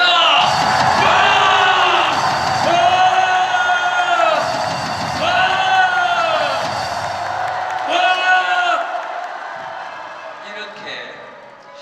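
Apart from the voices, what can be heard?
crowd cheering and shouting in support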